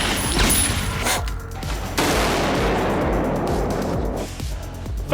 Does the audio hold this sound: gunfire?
yes